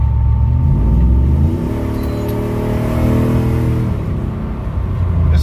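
A Ram pickup with upgraded heads and cam pulls hard on the highway, its V8 engine rumbling loudly with rising and falling revs as it accelerates through gears, no talk over it.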